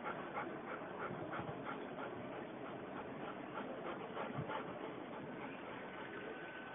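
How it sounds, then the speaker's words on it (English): A dog whimpers and whines steadily at a faint level, with soft yips and panting mixed in and no talk over it. "And their faithful dog, Lonnie."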